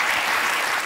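Studio audience applause on a Norwegian talk show, a brief steady burst of clapping filling the room without any talking.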